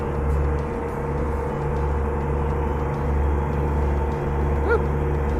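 Kenworth T680 Next Gen truck engine in American Truck Simulator, a steady low rumbling drone with a faint whir above it, continuous and unchanging throughout, with no voices.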